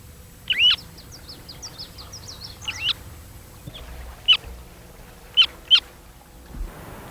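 Semipalmated plover calls outdoors in wild northern country: a run of quick high chirps followed by several sharp, separate whistled notes, fairly close and clear over faint background noise.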